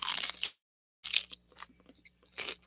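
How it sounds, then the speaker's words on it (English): Crunchy food being chewed close to the mic during a casual stream, loud bursts of crunching broken by a silent pause, then several softer bites and chews with a final crunchy burst. "sorry about the crunching if it bothers anybody"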